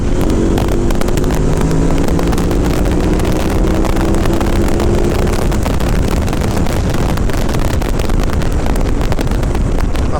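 A KTM 990 Adventure S motorcycle accelerates hard on a road, its engine note climbing through rising tones under heavy, constant wind roar, loud and close throughout.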